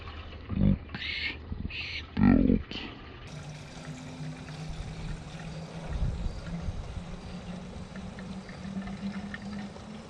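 Gasoline pours from a red gas can into the tank of a motorized bicycle, a steady rushing trickle that runs for several seconds after a few short knocks and bumps at the start.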